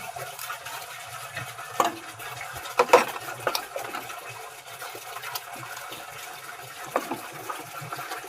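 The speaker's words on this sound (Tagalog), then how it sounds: "So dito na ako hugas na pinggan." Running water splashes steadily with clinks and knocks of dishes scattered throughout, close by, with no one talking.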